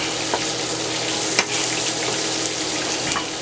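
Red chilies and vegetables frying in a pan for Thai-style whole red snapper, a constant close sizzle with a few sharp crackles and spatters, no talking.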